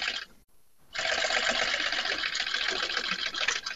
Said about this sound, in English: working at a sewing machine, kind of like maybe sewing machines you've seen before, but it has much bigger needles and is very powerful